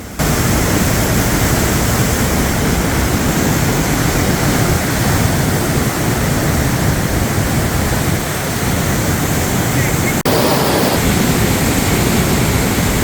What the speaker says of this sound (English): There's a small viewing area within this cave, which is extremely close to the water from the Johnston Canyon Lower Falls, that allows you to hear and feel the power of nature